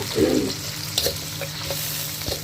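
Bitter gourd (ampalaya) with tomato sautés in a pan with a steady, close sizzle, broken by a few soft clinks and stirring scrapes and an early brief low thump, with no talking.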